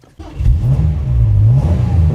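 Ford Capri engine revving up from idle, a loud close rumbling roar that climbs and falls in pitch over a couple of seconds.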